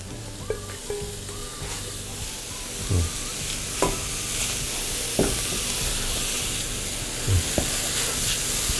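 Chopped mushrooms and shallots sauté in butter with a constant bright sizzle, broken every second or two by the scrape and clack of stirring, close and steady with no talking.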